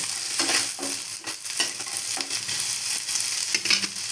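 Gulivinda fish frying in a little oil with ginger paste on low heat: a continuous close sizzle broken by repeated stirring scrapes, with no talking.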